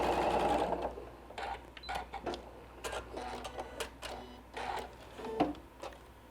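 A sewing machine stitches a quarter-inch seam along the edge of a quilt block, heard as close, quiet mechanical whirring in short bursts separated by brief pauses.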